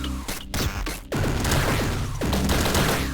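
Triple gun blasting in the video game Downwell, dense rapid bursts of crunchy shots layered over the game's steady music, loud and continuous through most of the moment.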